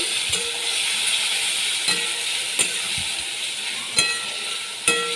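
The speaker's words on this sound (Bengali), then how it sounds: "ভালো করে আমি নেড়ে নিচ্ছি" Spices and tomato are stirred in hot oil in a frying pan, a loud steady sizzle with occasional clicking knocks of a spoon against the pan, close and without talking.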